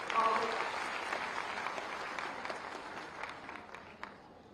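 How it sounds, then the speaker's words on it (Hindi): Applause from an audience welcoming a minister at a government press event on a youth entrepreneur campaign, a steady crowd clapping that holds throughout and eases slightly toward the end. "तालियों से स्वागत कर दीजिए"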